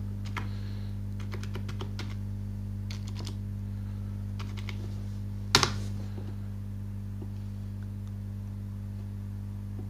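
Sparse, light keyboard typing in short bursts over a constant low electrical hum, with one sharper louder click near the middle; quiet and close, no talking.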